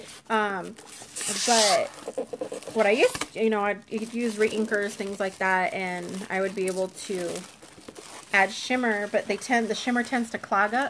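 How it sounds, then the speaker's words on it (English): Someone talks continuously while crinkling, crackling plastic packaging rustles underneath her voice. "Sorry for the noise. I'm trying to take off the packaging."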